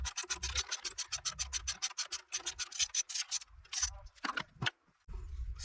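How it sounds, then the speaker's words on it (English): A socket wrench turns the battery terminal bolt on a 2020+ Chevrolet Silverado 2500/3500 HD, producing a quick, steady run of close ratcheting clicks that breaks into a few irregular scrapes, with no talk. "we're going to go ahead and remove the bolt on the battery to connect the negative terminal first"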